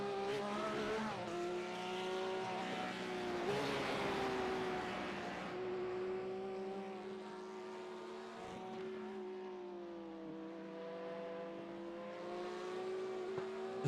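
GT3 race car engines in a sim racing game drone and rev continuously, with several cars' tones layered and shifting in pitch as they accelerate and brake, fairly loud throughout.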